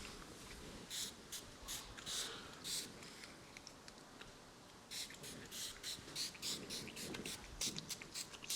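A board is wiped clean during a mathematics lecture, giving a series of faint, rhythmic rubbing strokes in quick bursts, soft and somewhat distant in a quiet room.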